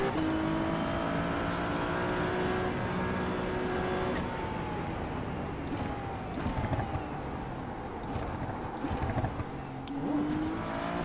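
A Ferrari race car engine in a racing video game drones steadily throughout, its pitch rising and falling as it accelerates and shifts, with brief tyre and gear transients over a continuous loud engine tone and no voices.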